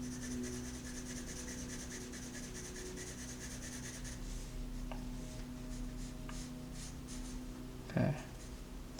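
A graphite pencil shades a drawing on paper, giving a soft, close rubbing scratch in steady strokes over a low background hum, with one louder knock near the end.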